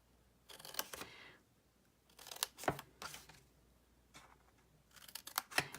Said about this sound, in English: I'm going to take my paper snips and I am going to cut each of my squares here